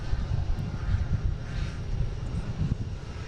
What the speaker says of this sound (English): They have American Airlines coming in from Charlotte.